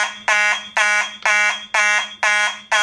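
Fire alarm horns blare during a fire alarm system walk test after a smoke detector is activated, six loud harsh bursts in a repeating pattern with short gaps between them, steady and close.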